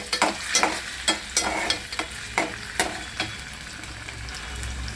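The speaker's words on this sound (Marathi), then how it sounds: "बटाटे पूर्ण फ्राय करून घ्यायचे" Thinly sliced potatoes frying in a pan for kanda poha give off a steady close sizzle, broken by regular scraping strokes of a spatula for the first few seconds before the stirring slows and only the frying hiss is left.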